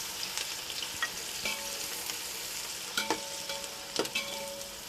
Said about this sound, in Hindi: अब इसके अंदर हम डाल देंगे अनियन, जो हमने बारीक कट करके रखी है, और इसको लाइट गोल्डन हो जाने तक फ्राई करेंगे अनियन को